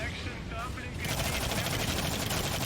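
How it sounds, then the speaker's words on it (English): Hostile turret fire in the shooter game The Cycle comes as rapid, continuous automatic bursts, dense and loud throughout. "Hostile turret. It's a turret fight."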